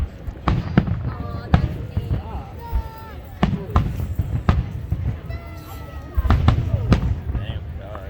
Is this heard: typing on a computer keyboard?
no